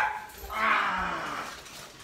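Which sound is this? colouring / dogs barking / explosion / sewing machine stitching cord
dogs barking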